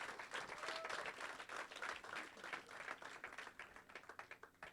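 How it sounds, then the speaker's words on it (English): An audience at a startup pitch competition final claps for the participants, continuous applause that is fairly faint and thins into individual claps toward the end. "One more time, a round of applause for all the participants."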